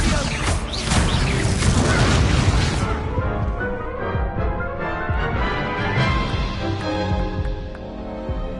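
Explosions from the Confringo spell in the video game Hogwarts Legacy, a loud crashing burst followed by rumbling debris and a fading, ringing tail.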